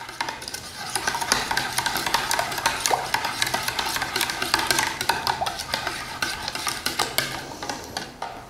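Rice flour cake batter with margarine being stirred by hand in a bowl, a steady scraping and clinking of the utensil against the bowl continuing throughout, close and fairly loud, with no talking.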